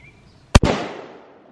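A single booming Mosin Nagant rifle shot fired outdoors, a sharp close crack followed by a long rolling echo that fades over about a second.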